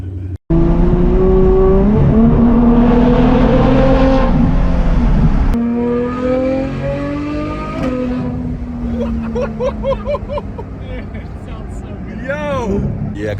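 A Ferrari F12 with a Frequency Intelligence exhaust revs loudly nearby, a sharp V12 wail that climbs and holds, then falls away into burbles and crackles before another short rev, with voices heard toward the end.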